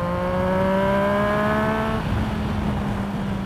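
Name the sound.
motorcycle accelerating as the rider opens the throttle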